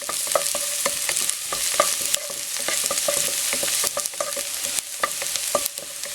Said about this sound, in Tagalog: Dito po ay gigisahin natin itong bawang